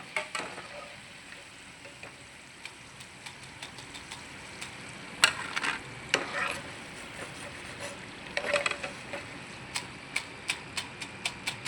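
McCain french fries frying gently in oil over a low flame, a soft steady bubbling hiss with faint crackles that grow into brisker ticking pops later, heard quietly and alone.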